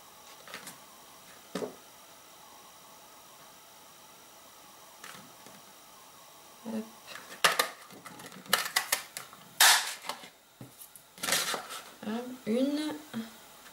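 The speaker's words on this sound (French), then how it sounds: "nous allons venir les découper tout simplement grâce à notre perfo, qui est coordonnée" A paper hole punch cuts daisy shapes from paper in a few sharp clicks and crunches, close and loud, with quieter handling sounds earlier and a voice talking through parts of it.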